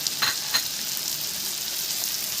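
Liver fries in a pan with salt, pepper, coriander and cumin, a bright continuous sizzle near at hand, with two quick scraping stirs at the start and then steady frying alone.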